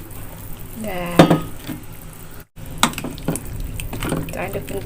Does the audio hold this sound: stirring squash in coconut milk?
yes